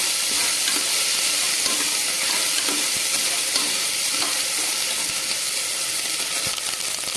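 Onions and ginger-garlic paste frying for veg biryani, a loud, dense, unbroken sizzle heard close, with faint stirring scrapes underneath and no talk.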